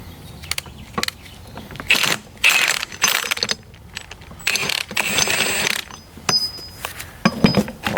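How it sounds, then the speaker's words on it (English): An impact wrench hammers at a nut on a Harley 4-speed ratchet top transmission, with a drive chain wedged in to hold it, giving loud close bursts of rattling mechanical impacts between short pauses. "I'm gonna try and whack it with the impact wrench, and hopefully between the impact and this drive chain wedged in there, it comes off."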